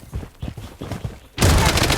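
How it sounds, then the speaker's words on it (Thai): A dense burst of rapid gunfire in the video game Blood Strike erupts suddenly and continues loudly after a stretch of quieter, scattered thumps. "เฮ้ยแต่นี่มีเสียงปืน"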